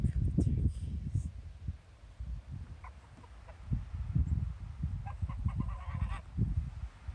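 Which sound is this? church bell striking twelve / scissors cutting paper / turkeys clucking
turkeys clucking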